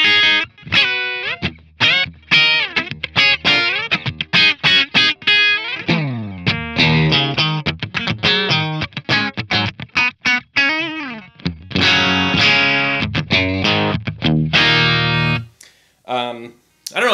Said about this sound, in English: Here it is, coil split.